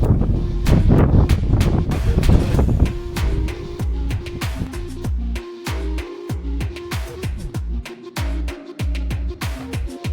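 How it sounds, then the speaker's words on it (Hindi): Strong gusting wind buffets the microphone on an exposed hilltop trek at Madhugiri Fort, with loud, rumbling low-end bursts rising and dropping irregularly throughout. "और इस पड़ाव को और भी ज़्यादा खतरनाक बनाती हैं ये तेज गति की हवाएं।"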